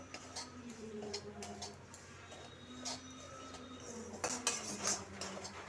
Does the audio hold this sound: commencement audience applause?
no